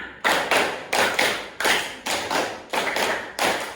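Children in a classroom clap in a fast, even rhythmic pattern, about eight sharp, close claps in under four seconds, with no talking.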